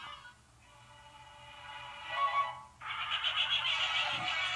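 A horse whinnies in a Disney cartoon, a long high neigh that rises and breaks off, followed by a second bright, sustained whinny, clear and close with no talk over it.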